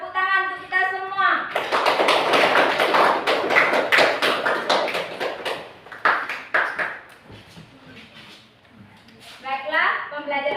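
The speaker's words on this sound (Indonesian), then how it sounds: "Tepuk tangan untuk kita semua." A classroom of children applauds after a teacher's closing words, a burst of dense clapping lasting several seconds before fading, with the teacher's voice heard before and after.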